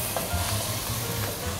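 Coriander, roasted shrimp paste and black pepper sautéing in a pan, a steady close sizzle with soft stirring scrapes and no voices.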